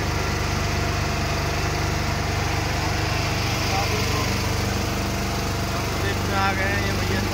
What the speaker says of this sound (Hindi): आप देखिए नाव चल रही है और अब पहुँचने वाले हैं बिल्कुल बीच में।